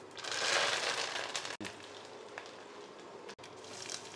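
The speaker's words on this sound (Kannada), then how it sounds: "ಎಣ್ಣೆ ಕಾದ್ಮೇಲೆ ಈ ತರ ಸಾಸಿವೆ ಜೀರಿ ಹಾಕ್ಬೇಕು ಸರ್" Mustard seeds, cumin and curry leaves sizzling in hot oil, a steady crackling hiss that swells near the start, then carries on evenly, broken by two brief drops.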